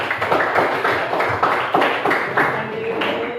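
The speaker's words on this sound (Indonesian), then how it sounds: "kita kasih tepuk tangan untuk kelompok 2" A classroom of junior high students at a coding and AI training session claps for group 2, a dense, even patter of many hands that carries on steadily throughout.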